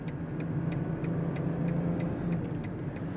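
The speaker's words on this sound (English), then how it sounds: "Those downshifts are angry." Engine of a 2022 BMW X5 xDrive40i SUV drones steadily from inside the cabin while driven in sport mode, a moderate hum with faint ticking over it and no clear shift blips.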